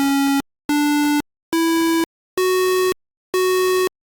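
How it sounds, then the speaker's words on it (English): A harsh, buzzy square-wave tone made by thresholding a sine wave, sounding in five loud, even bursts separated by short silences, with a slight pitch rise across the later bursts. "this is a square wave being generated just by that sine wave being thresholded"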